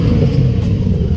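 A car's engine runs with a new exhaust fitted, giving a loud, close, low burble with uneven pulsing.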